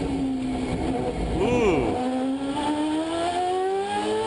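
Mazda 787B rotary-engined race car lapping Le Mans, its high-pitched engine note climbing steadily after a brief dip and rise, loud and continuous, with a man's short exclamation over it.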